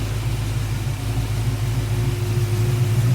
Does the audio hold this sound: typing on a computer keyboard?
no